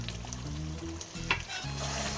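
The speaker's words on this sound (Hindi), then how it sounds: "और 3 से 4 मिनट तक भूनेंगे।" Half a kilo of potatoes frying with meat in a pot for degi aloo gosht, a steady close sizzle with a brief clink or scrape partway through, no voices.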